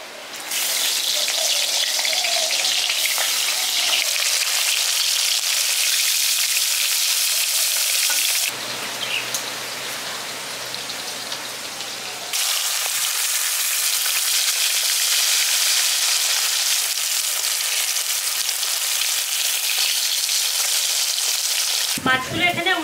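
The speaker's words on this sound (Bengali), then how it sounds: "মাছগুলো এখানে উল্টে পাল্টে আমি হালকা করে ভেজে নিয়েছি" Pieces of rohu fish sizzle loudly in hot mustard oil in a wok, a dense continuous frying hiss that briefly softens midway as the fish are turned, then resumes strongly.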